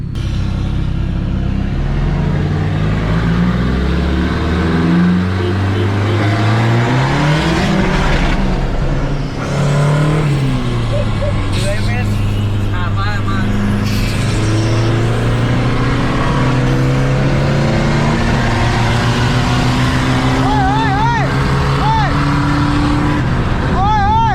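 Engine of a green 1.9 car revving hard during a street race, a loud, sustained drone with rising and falling pitch as it accelerates, with voices talking over it throughout.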